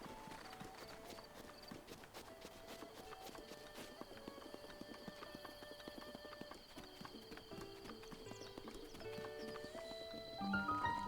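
Steady clip-clop of horse hooves with occasional whinnies over a busy layered soundscape of music and ambience from The Legend of Zelda: Breath of the Wild, near Dueling Peaks Stable, continuous throughout.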